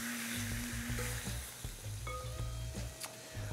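Meat browning in a hot pan gives off a steady sizzle and crackle that runs throughout at moderate volume, with a few brief clinks and stirring sounds and no talk.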